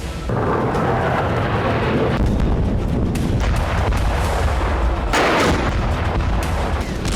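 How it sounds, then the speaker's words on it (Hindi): Deep, rumbling booms and blasts from airstrikes in Yemen roll one after another, heavy and distant-sounding, with sharper cracks cutting through a continuous low roar. "16 अक्टूबर की रात यमन में धमाकों की रात थी"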